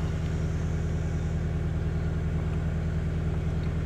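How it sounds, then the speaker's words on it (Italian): A Toyota GT86 sports car engine runs at a steady, close idle just after starting up with the clutch pressed, a continuous low rumble with an even throb and no voices over it. "Facciamo un cheeky startup, piede sulla frizione. E si accende."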